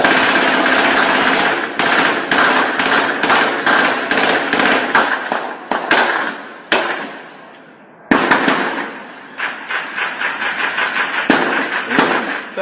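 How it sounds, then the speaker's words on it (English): Rapid bursts of gunfire from a gun salute crackle loudly and continuously, with dense volleys briefly pausing before resuming in close succession. "the sound of that rapid gunfire would have given a clear indication that there was some gun salute thing going on"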